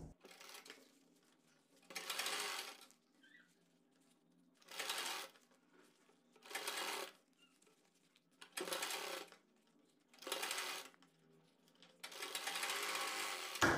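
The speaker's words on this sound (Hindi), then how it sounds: "और इसके ऊपर कन्नी की सिलाई लगाएंगे।" Sewing machine stitching a sleeve edge, running in six separate bursts of a couple of seconds each with quiet gaps between, close and steady, no talking.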